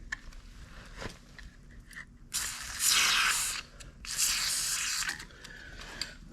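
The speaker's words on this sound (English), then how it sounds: "I'm going to hit just a couple spots here with some WD-40" Two loud, close hissing bursts of WD-40 gel lube sprayed onto the wheel axle of a Fulton XLT jet ski trailer jack, the second longer, with faint mechanical clicks in between.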